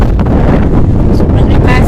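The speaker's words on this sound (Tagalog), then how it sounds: "Aray ko, pinapadpad ako ng hangin." Strong wind blasting across a microphone by warm water, a loud, continuous roaring buffet with gusty surges throughout.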